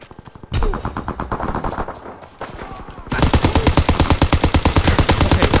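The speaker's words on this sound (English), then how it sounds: "Okay, I gotta stop shooting." Gunfire in the shooter Call of Duty WW2 comes in rapid automatic bursts, a short pause, then a louder sustained stream of evenly spaced close shots.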